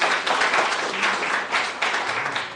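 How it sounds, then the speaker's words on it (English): An audience at an inter-school debate applauds a student presenter, a steady dense clapping that carries on without a break, with slight swells and faint murmuring underneath. "Another round of applause for our second presenter from the Dominican State College."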